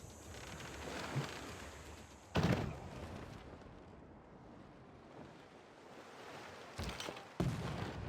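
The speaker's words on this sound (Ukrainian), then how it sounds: "Корабель стріляти, кажу." A warship in Civilization V fires its guns, throwing out a few abrupt loud bursts over a steady surf-and-wind ambience, with the shots spaced unevenly.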